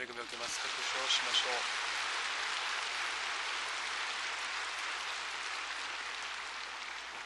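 Applause from a church congregation after the choir sings, a steady wash of clapping throughout, fairly faint and distant.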